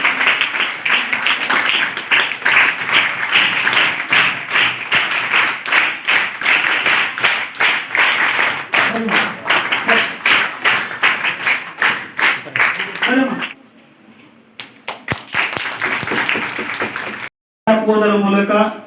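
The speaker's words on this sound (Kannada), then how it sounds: "ಎಲ್ಲರೂ ಜೋರಾದ ಚಪ್ಪಾಳೆಯ ಮೂಲಕ ಕಾರ್ಯಕ್ರಮಕ್ಕೆ ಚಾಲನೆಯನ್ನು ನೀಡೋಣ" A crowd at a school event for International Youth Day, a legal awareness and aid program, claps loudly and continuously for about thirteen seconds. The applause then thins into scattered claps and fades before brief noise returns at the end.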